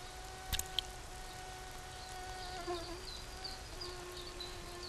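A faint, steady mosquito buzz in flight hovers through the whole stretch, with a few brief clicks early on and no voices.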